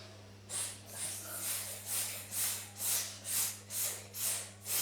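During a breathing exercise, breaths are drawn from the lower belly, heard close up as about eight rhythmic, forceful, hissing breath pulses in steady succession.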